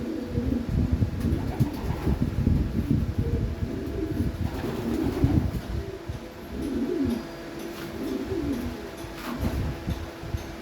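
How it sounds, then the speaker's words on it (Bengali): A racing homer pigeon coos nearby in repeated low throaty phrases over steady background noise, with no talking. "আমার হাতে একটা কবুতর দেখেন"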